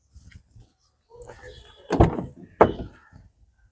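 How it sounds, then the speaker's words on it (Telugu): The rear door of a 2018 Hyundai i20 Asta is opened, giving a soft latch click followed by two close, solid thunks in quick succession amid faint background rustling. "బ్యాక్ డోర్ ఓపెన్ చేశానండి"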